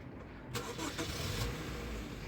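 A 2021 Honda Civic engine starts from the push button: a brief cranking whirr at about half a second catches into a steady idle hum that continues to the end, heard from nearby.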